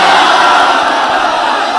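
A dense crowd at a majlis shouting religious slogans in unison, a loud continuous roar of many voices.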